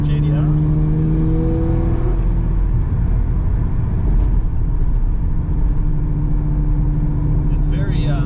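A Nissan Stagea 260 RS Autech with an RB26DETT twin-turbo straight-six engine drones steadily from inside the car, a loud, continuous low hum that barely changes over several seconds.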